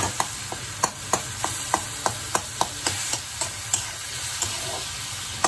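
Tomatoes with salt sizzling in a pan while a spoon scrapes and stirs in a steady rhythm of sharp clicks, close and alone against a constant frying hiss.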